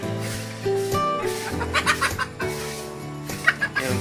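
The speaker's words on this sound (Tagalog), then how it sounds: "Chinese chicken siya" Chinese chickens cluck in short, choppy bursts nearby, with a few louder squawks over a steady low background hum.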